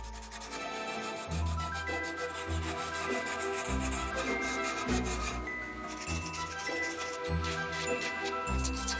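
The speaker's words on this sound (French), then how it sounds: "Et maintenant, on va pouvoir poncer." Filler on an object being restored is sanded by hand, with quick repeated scratchy rubbing strokes in a brisk rhythm, close and fairly quiet, with faint tinkling along with it.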